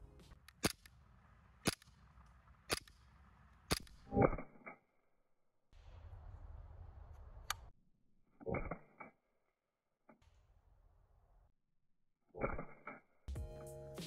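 Raven EU17 Glock 17 gas blowback airsoft pistol firing 0.25 g BBs, heard as a string of sharp, separate snapping shots with clacking slide action, each shot spaced apart, and quiet gaps between groups.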